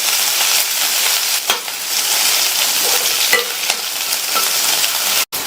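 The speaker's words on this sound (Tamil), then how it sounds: "சூடானதும் அதுல அரை டீஸ்பூன் கடுகு, 1 டீஸ்பூன் உளுந்து, கட் பண்ண ஒரு மீடியம் சைஸ் வெங்காயம், கொஞ்சமா கறிவேப்பிலை இலைகள் சேர்த்துட்டு இதை லைட்டா வதக்கி விட்டுக்கலாம்" Mustard seeds, urad dal, chopped medium onion and curry leaves sautéing in a hot pan, a loud continuous sizzle with scraping stirs of the spoon, close up and without talk.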